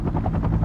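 A UH-1 Huey helicopter's rotor thumps in a steady, rapid rhythm under a low engine drone, close and loud for a brief moment with no voices.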